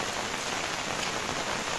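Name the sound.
heavy rain falling while walking to Mandangad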